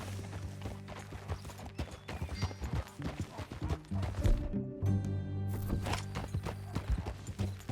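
Steady clip-clop of horse hooves at a riding pace in Red Dead Redemption 2, close and rhythmic, with a brief whinny-like accent and background game music.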